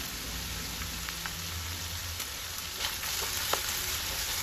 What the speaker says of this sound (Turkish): Soğanların kokusu çıkana kadar kavurduktan sonra doğradığım biberleri ekliyorum.